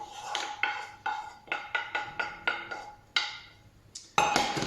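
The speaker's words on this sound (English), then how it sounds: "we're going to tip our cooked vegetables into the pan with our egg and milk mixture" Cooked vegetables tipped and scraped from a utensil into a pan holding an egg and milk mixture for a Spanish omelette, a run of repeated metallic clinks and taps at a steady rhythm, close and fairly clear.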